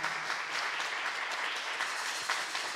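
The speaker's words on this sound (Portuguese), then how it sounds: "Vamos aplaudir para os povos indígenas" Sustained applause from a crowd at a university week opening ceremony, steady clapping throughout with no talking over it.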